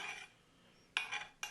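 A big ladle scoops and pours broth for chicken soup in a pot, giving a soft scraping clink, then two brighter metallic knocks and swishes close by, with no talk.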